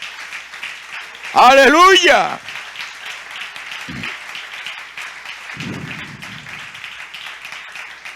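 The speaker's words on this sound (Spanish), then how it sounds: "Fuertes aplausos si siente hacerlo." A church congregation breaks into a short, loud burst of applause mixed with a shouted cry of praise, then quiets back to a low murmur of the room.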